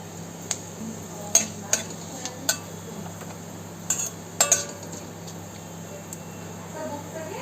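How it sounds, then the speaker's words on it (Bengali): Panch phoron spices crackling in hot mustard oil in a pan, a quiet sizzle under scattered metallic clinks and taps of a utensil against the pan. "সর্ষের তেলটা গরম হয়ে গেছে, এবার একটু পাঁচফোড়ন দিয়ে ভেজে নেব"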